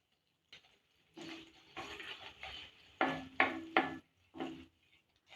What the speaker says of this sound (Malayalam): വേറൊരു പാൻ അടുപ്പത്ത് വെച്ച് ചൂടായിട്ടുണ്ട്. ഇതിലേക്ക് 2 ടേബിൾ സ്പൂൺ ബട്ടർ ഇട്ട് കൊടുക്കാം.